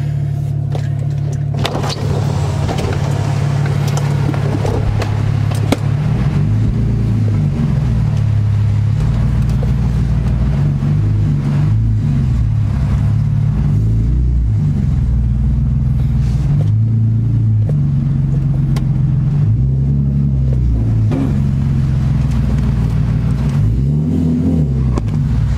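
BMW E46 car pulling away and revving hard, a loud, close engine roar rising and falling through repeated throttle blips and gear changes, with rumbling exhaust filling the whole stretch and no talk over it.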